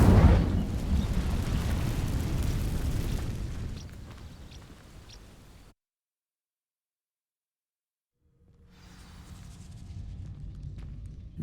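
Incendio fire spell igniting dry vines in the video game Hogwarts Legacy: a loud, roaring whoosh of flame that rumbles for several seconds, fades into silence, then a quieter crackling burn returns.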